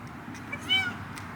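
Cats on a patio in a winter garden give a single short, faint meow over quiet outdoor background.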